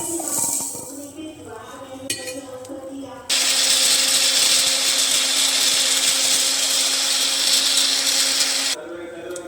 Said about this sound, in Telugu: ఇది చల్లారాక మనం గ్రైండ్ చేసి పక్కకు పెట్టుకుందాం.